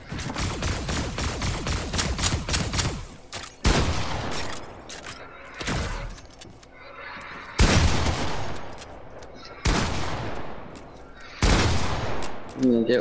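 Rapid bursts of Fortnite gunfire crack out in dense volleys, then come as separate loud blasts every couple of seconds, with a voice talking between the shots.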